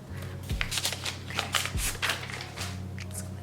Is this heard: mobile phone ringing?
no